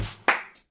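A single sharp hand clap rings out close by, ending a brief, quiet moment that settles into silence.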